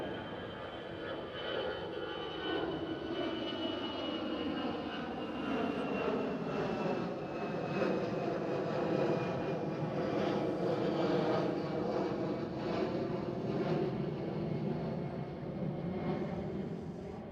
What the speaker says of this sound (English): I was looking at the jets, but here's EasyJet.